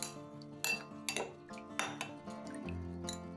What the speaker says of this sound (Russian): Все перемешиваем.